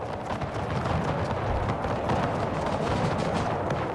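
Musket and artillery fire in the video game Empire: Total War, a dense continuous battle din of overlapping gunshots and rumbling booms, with no clear talking.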